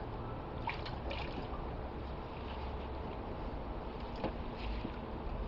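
A child dumps water out in a small pool. Faint trickling and a few soft splashes sit over a quiet, airy background, with no voices.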